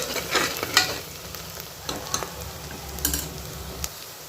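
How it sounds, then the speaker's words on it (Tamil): Onions fry in a pan for a country chicken curry, a soft steady sizzle broken by a few scraping stirs of the spoon. "இப்போ நல்லா வெங்காயத்தை வதங்கிட்டு இருக்கு"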